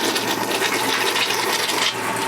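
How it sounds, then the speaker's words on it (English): A Dometic 300 RV toilet flushing, a steady close rush of water that runs evenly and unbroken before easing slightly near the end. "Now let's do a flush test."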